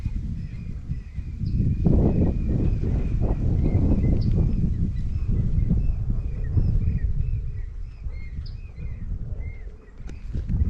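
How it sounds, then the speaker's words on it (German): Strong, cold wind at high altitude in the mining town of La Rinconada blusters and rumbles against the microphone, with faint background chirps and clatter. "Es ist extrem windig und kalt hier."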